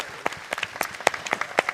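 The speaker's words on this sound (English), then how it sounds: "let's give a good big round of applause to Matt" Sparse, scattered clapping from a small audience at an art event, a handful of distinct sharp claps in an uneven rhythm, fairly faint and brief.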